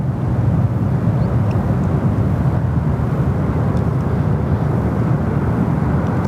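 Jetstar flight 48 at Sydney Airport produces a steady, low, rumbling engine drone that holds at an even level throughout, distant-sounding and without a distinct rise or fall.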